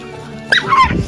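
A dog at Sankshi Fort, a hill fort in Raigad district, gives a single short, sharp yelp close by against quiet surroundings.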